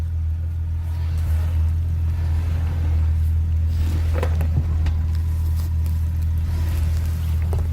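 Engine of a built off-road Jeep XJ on 35-inch tires held under steady throttle, a continuous deep loud rumble with slight surges and occasional knocks from the trail.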